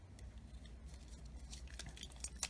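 Scissors snip through sticky tape for a junk journal, a few short crisp cuts heard close and quiet against a soft background hum.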